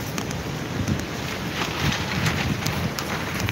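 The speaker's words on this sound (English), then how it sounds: "There goes that damn wind." Gusty wind buffets the microphone outdoors beside a leaf loader, producing a steady, loud low rumble with rising and falling surges throughout and no talking.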